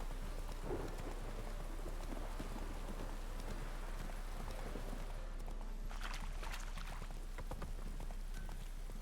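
Steady heavy rain pours throughout in a video game, with low rumbling and occasional sharper crackles suggesting distant thunder; no voices.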